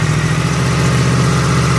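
A 2016 Yamaha MT-10 motorcycle engine runs at a steady, loud idle, close by and on its own for under two seconds.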